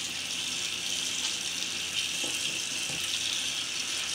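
Steady hiss of hot tap water running into a sink during a makeup-removal skincare routine, continuous and even with a couple of faint clinks, no voices.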